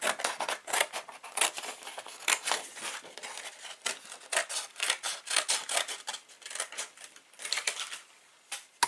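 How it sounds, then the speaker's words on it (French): Scissors snip through paper while a shape is cut out along its outline, close and crisp, with rapid repeated cutting strokes and short pauses, and no talk. "le mieux c'est de découper le contour"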